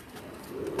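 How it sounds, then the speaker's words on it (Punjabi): A rooftop breeder pigeon gives a brief, soft, low coo, close by and alone. "ਕਿਹੜਾ ਕਬੂਤਰ ਹੈ"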